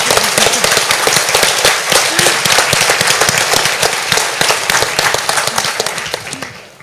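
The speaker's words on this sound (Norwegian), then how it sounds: "Så jeg synes vi skal starte med å gi Kristin Halvorsen en god applaus." A crowd at a kindergarten policy debate applauds a politician: loud, dense, sustained clapping close by, with individual sharp claps standing out, fading slightly at the end, and a brief spoken syllable over it.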